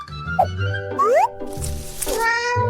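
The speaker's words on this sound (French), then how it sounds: "Alors, un bébé qui miaule?" A kitten meows several times in drawn-out, rising cries, close and fairly loud, with short pauses between calls, in a hospital.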